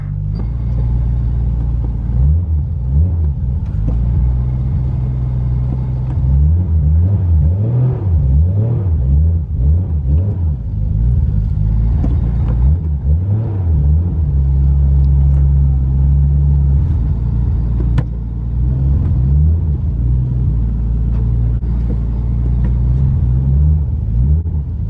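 Japanese car driven with a very heavy clutch, its engine a loud, close rumble that repeatedly swells and eases as the revs climb and drop through gear changes.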